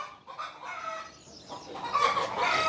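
Hens cluck and squawk close by in a short, busy burst of agitated calls, growing louder toward the end.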